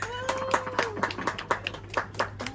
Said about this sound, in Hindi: तो एक दफा तालियां बजा दीजिए मेरे.